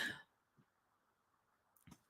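A single short, harsh cough right at the start during a breathwork session, close but quiet, followed by near silence and a small throat sound at the end.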